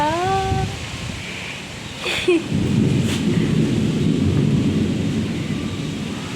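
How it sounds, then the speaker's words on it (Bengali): Light rain and gusty wind outdoors on a cloudy afternoon, a constant rushing wash with a brief louder crack or rumble partway through, heard close and without clear speech. "এখন কি সুন্দর দেখো হালকা হালকা বৃষ্টি পড়ছে মেঘ করে এসছে"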